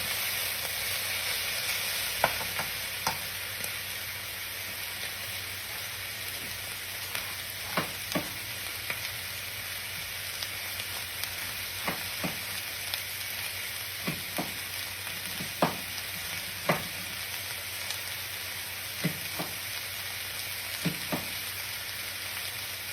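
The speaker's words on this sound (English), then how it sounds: "Give this another little stir." Cabbage and sausage fry in a skillet with a continuous soft sizzle and hiss, while a spatula stirs and taps at scattered intervals over more than twenty seconds; no one speaks.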